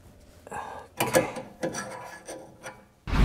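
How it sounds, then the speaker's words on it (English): Wrench work tightening a nut onto a rear sway bar end link on a car: close, intermittent metallic scraping and ratcheting clicks in short bursts, ending with a louder clunk. "So it's gonna be tightening this nut to the end link."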